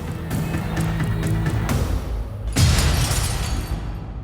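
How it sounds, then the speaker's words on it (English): A mirror hurled against a wall crashes and glass shatters, a dense sustained burst of breaking noise with a sharper renewed impact midway, loud and close with no talk. "There was this loud crash"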